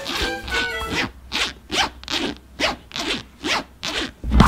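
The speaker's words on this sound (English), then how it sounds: "We have to do the zip test." A homemade replacement zipper is pulled up and down repeatedly, giving about eight crisp rasping strokes in a steady rhythm, close and loud with no voices.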